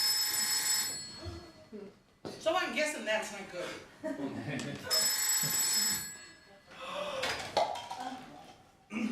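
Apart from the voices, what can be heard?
old mobile phone ringing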